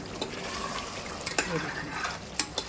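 Mutton salli boti frying in a pot while being stirred, heard as a steady low sizzle with several soft scraping and clinking spoon knocks close by.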